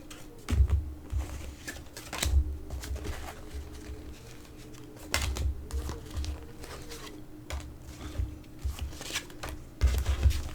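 Tarot cards are pulled and shuffled close by, making soft papery riffles and light taps that come in short bursts spread over several seconds, with no one talking.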